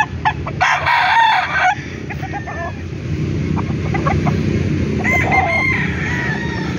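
Gamecock roosters from Bulacan crowing loudly and nearby, one long crow at the start and another later, with clucking and general farmyard noise in between.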